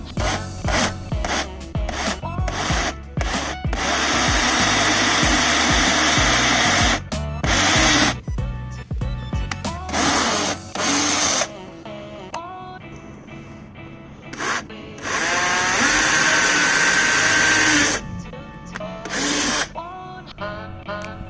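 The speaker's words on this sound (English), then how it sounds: "Grab your 7mm drill bit for the task." A power drill with a 7mm bit boring holes in plastic mud-flap tabs on a Can-Am Outlander ATV, loud and close, running in long whining bursts with brief stops and restarts.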